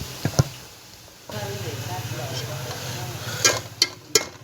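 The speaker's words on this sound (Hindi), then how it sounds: "इन प्याज को अच्छी तरह फ्राई करना है।" Onions browning in a pan for a desi aloo kofta shorba, giving a steady low sizzle with occasional stirring clinks, while a voice talks over it nearby.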